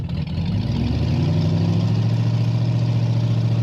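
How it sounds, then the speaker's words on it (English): A 1933 Plymouth 5-window coupe street rod idles steadily up close, its deep, even engine rumble holding loud and constant with no talk over it. "Today we're going for a ride in a 1933 Plymouth 5-window coupe."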